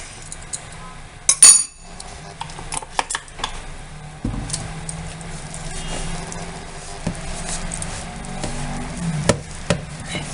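Milk and oil being mixed for tortilla dough in a bowl, with clinks of a utensil against the bowl, soft stirring and scraping, and a few sharper knocks near the start.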